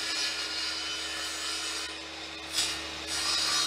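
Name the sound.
refining edges of a wooden board in workshop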